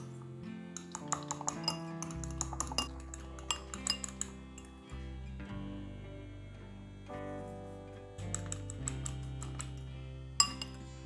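Egg and a couple pinches of salt being mixed into Korean pancake batter in a bowl, with repeated clinks and taps of a utensil against the dish over a low steady hum, fairly close and continuous.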